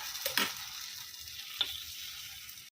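Egg gunta ponganalu batter frying in an oiled paniyaram pan, a steady close sizzle throughout with a couple of brief louder stirring or scraping knocks and no talk.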